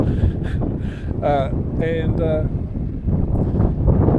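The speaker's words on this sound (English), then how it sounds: "Now it's a bit breezy. You might have picked that up already by now" Evening breeze at Lake Tennyson buffets the microphone with a steady low rumble and gusting roar throughout, while a voice talks over it.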